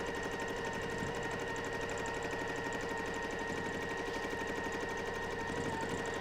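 A sewing machine free-motion quilting a nine-patch block runs steadily up close with a fast, even stitching rhythm, uninterrupted and without talk.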